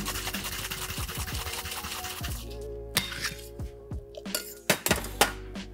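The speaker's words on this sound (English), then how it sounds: "I'm gonna start by dry shaking this" Whisky sour with egg white and simple syrup dry shaken in a cocktail shaker, giving clinking metallic rattles at first, then a few sharper separate knocks near the end.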